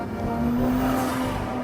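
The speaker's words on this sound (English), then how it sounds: "tires skittering across the moist pavement" A BMW 228i laps a race track on wet pavement, its engine holding a steady drone with tire hiss and skittering. The sound is loud and continuous, and no one speaks.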